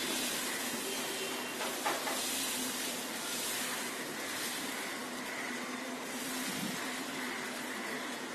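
Batter spread over a hot griddle on medium heat gives a continuous soft, broad hiss and sizzle, steady and close, with no talk.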